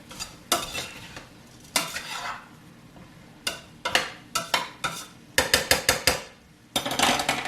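A spoon scrapes and clinks against a big pot of beef broth and vegetable soup, irregular stirring strokes with quick clattering runs and a faint simmer underneath.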